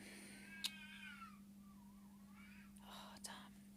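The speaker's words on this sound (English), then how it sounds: "I've got foxes or cats, I think, fighting outside, so I don't know if you can hear that." Cats fighting outside, heard faintly from a distance as long wavering yowls and growls, with two brief sharp clicks and a low hum throughout, while someone whispers quietly.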